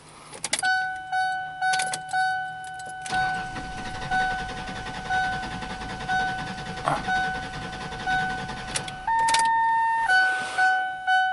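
A 2002 Ford Explorer engine cranks repeatedly without firing, a steady whirring starter drone with a chime-like warning tone pulsing over it and brief key rattles near the start.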